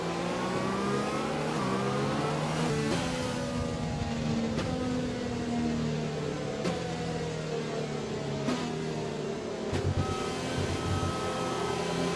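A Formula 1 car engine in the racing game F1 2020 at the Canada race holds a steady, loud hum with shifting harmonic whines throughout, punctuated by a few brief clicks, with no talking.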